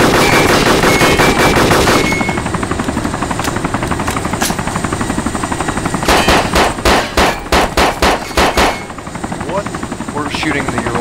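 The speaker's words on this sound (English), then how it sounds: "Shooting the Ural." Gunfire rakes a Ural truck in ArmA 2 DayZ Overpoch: a dense, loud burst runs through the first two seconds, and after a steady hum comes a rapid string of about ten sharp shots near the end, with faint voices mixed in.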